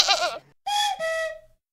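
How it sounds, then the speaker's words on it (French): A young goat kid gives a high, quavering bleat followed by two longer, steady bleats, clear and close, with brief gaps between them. "C'est le chevreau, le petit de la chèvre."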